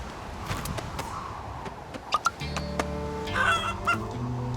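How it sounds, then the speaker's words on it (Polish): Short bursts of chicken-like clucking and squawks from a cartoon character over a busy background, with a few sharp clicks and a low hum joining near the end. "Czy ten krzak do nas gdacze?"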